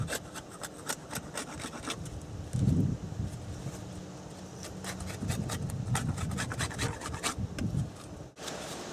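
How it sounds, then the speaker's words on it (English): A yucca fire saw's edges are sharpened with close, scratchy rasping strokes on wood, irregular rubbing scrapes with brief bursts of crisp clicks, some heavier grinding passes, and no talking. "Sharpen the edges."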